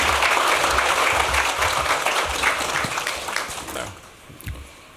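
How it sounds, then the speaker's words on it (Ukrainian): An audience at the opening of a conference on mental recovery applauds to welcome a speaker, a full crowd clapping for about four seconds before tapering off, with a few scattered last claps afterward. "І до вітального слова я запрошую Віктора Пінчука під ваші оплески"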